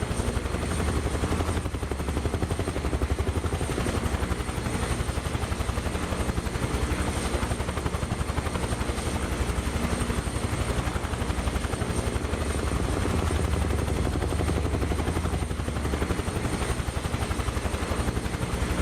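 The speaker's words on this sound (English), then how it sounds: "God, this helicopter sounds so good." Helicopter engine and rotor in Microsoft Flight Simulator 2024, flying over an Australian village area, a loud steady turbine whine with rapid rotor chop, constant and close throughout, no talking.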